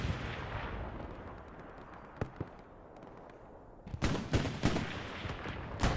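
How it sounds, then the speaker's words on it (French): In a World War II video game, a Panther tank blows up amid battle noise, with a low rumbling background followed by a cluster of sharp, loud bangs and cracks near the end. "joli ce panthère qui vient d'exploser"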